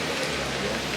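Rain falls on lush green forest near the Yalova thermal springs in Turkey, a brief, even, close hiss of drops with no voices.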